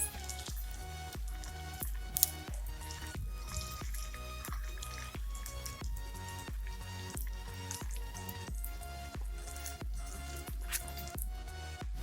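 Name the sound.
chicken 65 pieces frying in oil after flipping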